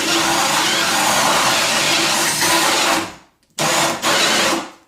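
A Milwaukee M18 FUEL ONE-KEY hammer drill grinds loudly and continuously while boring, then cuts out abruptly, restarts and briefly dips before running on, close up.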